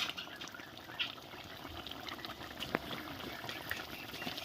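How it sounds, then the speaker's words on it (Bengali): Water boils in a pot while a raw banana kofta curry is prepared, making a faint, steady bubbling hiss with a few small pops and no voices. "জলটাকে এবারে ভালো করে ফুটিয়ে নেওয়া হবে ভালো করে ফুটে গেছে"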